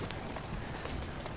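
Rapid hoofbeats of a galloping horse in the video game Assassin's Creed Syndicate, steady and close, with a faint burst of noise near the start.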